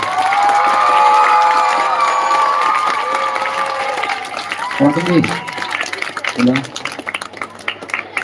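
An audience claps and cheers for district and state medallist athletes at a welcome event, crowd noise running steadily under a voice, with a few brief louder shouts near the end.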